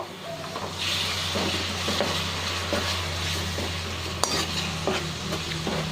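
Spices for a fish curry, cardamom among them, being stirred in a sizzling pan, with a steady frying hiss throughout and scraping strokes against the pan, one sharper clink near the end.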